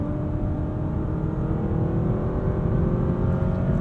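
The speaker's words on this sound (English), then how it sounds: "Full throttle, that 2-liter hybrid powertrain is still very quiet" A 2023 Honda Accord's 2-liter hybrid engine pulls hard at full throttle, a steady loud droning whir from inside the cabin, rising slightly in pitch, with no speech.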